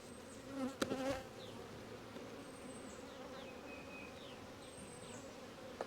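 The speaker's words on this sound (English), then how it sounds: "Got bees trying to crawl on my gloves." Honey bees buzz steadily around frames of honey being pulled from a hive, a continuous insect drone with a few closer passes and a brief louder rustle near the start; no voices.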